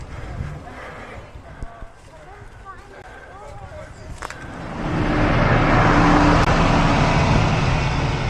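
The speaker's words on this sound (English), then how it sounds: "Bahrain victorious team bus." A Bahrain Victorious team bus approaches and rolls past on a moorland road at the Tour of Britain, its broad engine and tyre roar building to a loud, sustained rush over the final seconds amid roadside crowd murmur.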